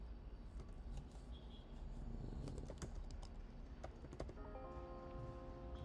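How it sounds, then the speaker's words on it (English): Rapid clicking of a computer keyboard as someone types, a steady run of small keystrokes over a low background hum, fairly quiet and close. "let's just type this in"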